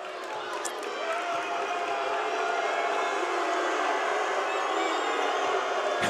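Basketball fans in a college gym during a men's game roar in a loud, steady crowd wash that swells slightly and holds for the whole stretch.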